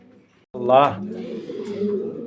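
Pigeons coo nearby at a market in a low, throaty burst, with a brief higher warble at the start and soft cooing continuing under a quiet background.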